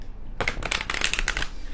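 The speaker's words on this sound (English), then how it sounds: "I shuffle the cards until I'm guided to stop." A deck of angel cards is shuffled by hand in a quick run of crisp, riffling flutters, close and clear with no talk.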